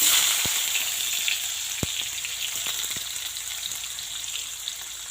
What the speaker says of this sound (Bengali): এবার ওই তেলে দিয়ে দিন হচ্ছে কুচি করা পেঁয়াজ